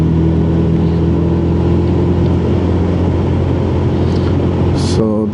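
A 2014 Honda CB1000R motorcycle engine at the Sebring, Florida race circuit drones loudly and steadily up close, its even tone holding throughout before shifting briefly near the end.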